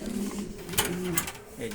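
Pigeons coo in a short sequence of soft, throaty calls close by, with someone talking over them.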